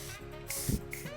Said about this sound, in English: So I hold the hair where I want it, and then I spray right over that